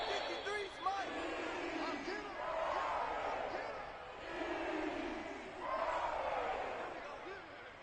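A home crowd at a football game cheers and roars in loud swelling waves. It sounds broad and distant, and a commentator's voice runs over it.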